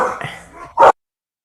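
Pet dog at home gives a whiny yip and then one sharp, loud bark close to the microphone before the sound cuts off.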